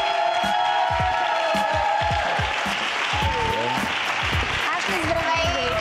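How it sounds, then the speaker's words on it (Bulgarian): Studio audience applauding a contestant at a Miss Bulgaria pageant show, steady dense clapping with a few cheers and voices rising over it throughout. "Дами и господа, аплодисменти за Ашли!"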